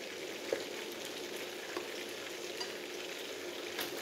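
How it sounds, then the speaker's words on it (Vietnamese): Broccoli florets blanching in a pot of boiling salted water, a soft continuous bubbling and sizzle with a few faint clinks, heard close and alone. "Nước sôi mình cho bông cải vào, mình trụng sơ."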